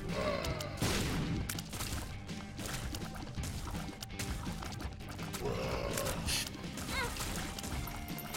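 Bombs going off in Binding of Isaac: Rebirth's Greed mode, a dense run of loud game explosions and crashes layered over busy game effects, with no one talking.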